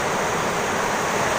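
A river rushes past close by in a dense, unbroken roar of flowing water, loud and even from start to finish with no voices over it.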